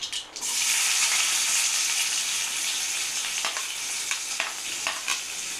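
Onions sizzle and fry in hot mustard seed oil for a bread egg kothu, a steady close crackling hiss with a few sharper spatters near the end, no voices.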